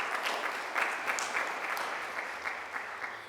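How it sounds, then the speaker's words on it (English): An audience at a career expo gives a sustained round of applause, dense even clapping from start to finish with no voices over it. "I would also like us to give a round of applause to the high school students"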